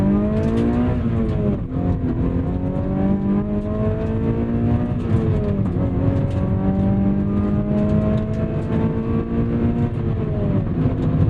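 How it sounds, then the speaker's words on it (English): A Mazda MX-5 Miata NC engine revs repeatedly, rising and falling in pitch as it builds toward higher rpm with a raspy, fizzy edge, loud and close throughout with no talking. "You get that build, that crescendo, that fizziness as you rev this thing out that the new NDs don't have."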